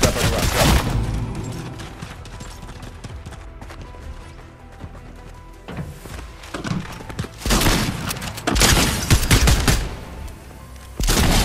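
Gunfire in a Fortnite match: loud bursts of rapid shots in clusters, with quieter stretches of game ambience between them.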